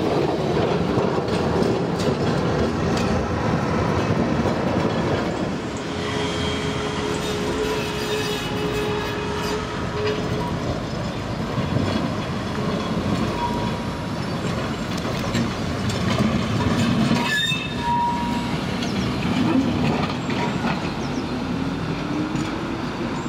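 A 2013 Helsinki museum tram runs through city streets, its wheels rolling steadily on the rails with rhythmic clatter, rumble and occasional squealing, loud and continuous throughout.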